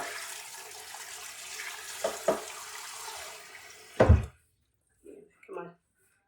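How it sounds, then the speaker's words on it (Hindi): Water flows into a container, a steady running pour with a few knocks and a sharp thunk, then the flow stops and faint talk follows. "और इसके अंदर पानी रखेंगे"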